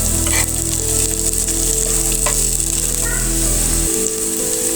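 Garlic, onion and coriander leaves fry in a pan for a mashed banana bharta, a loud, steady sizzling hiss with a low hum underneath that drops away near the end.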